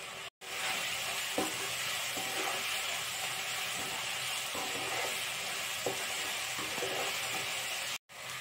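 Onions with salt frying in a pan for a mushroom, potato and egg curry, steady sizzle under periodic scraping stirs, close, with two brief cuts to silence.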